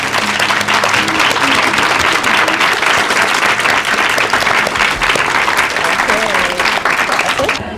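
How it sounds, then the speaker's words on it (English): An audience at the close of a winter camp led by someone gives a big round of applause: loud, sustained, dense clapping that fills the whole stretch, with some voices and cheers mixed in. "One more big round of applause."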